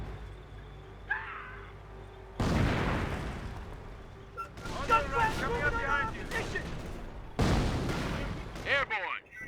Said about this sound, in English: call in some mortar barrages on him